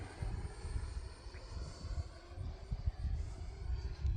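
An E-flite Viper 90mm electric ducted-fan RC jet circles overhead, giving a steady, moderately distant whooshing whine that holds fairly even throughout without talk.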